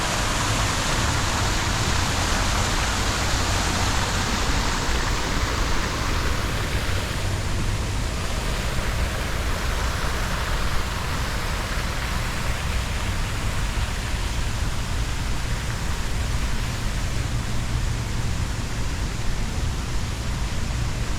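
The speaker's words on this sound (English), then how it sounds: "And here comes the fountains right here." Water of a Spanish-themed fountain in Mobile, Alabama, rushing and splashing in a steady, close, unbroken hiss for the whole stretch, with no voices over it.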